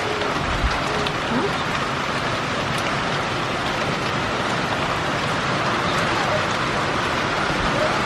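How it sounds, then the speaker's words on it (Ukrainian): Heavy rain falls outdoors as a dense, steady hiss that stays close and loud throughout, without pause. "тут такий грубий дощ падає"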